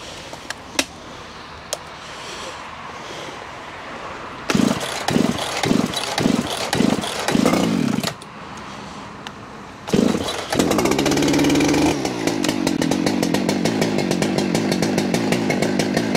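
A large chainsaw pulled over several times, then starting and running at a rough idle before revving up into a loud, steady buzzing engine, close by.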